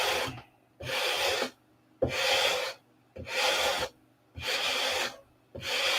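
Sandpaper rubbed by hand across an aircraft surface while working down a high spot, a steady rasping stroke repeated about five times in even back-and-forth rhythm, close and clear with short pauses between strokes.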